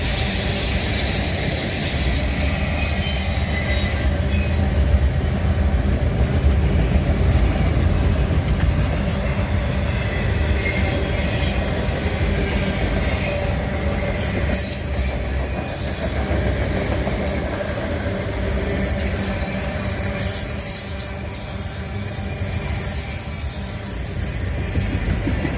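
A train rumbles past on the tracks close by, a loud steady roar with wheel clatter and occasional high squeals lasting throughout, with no voices.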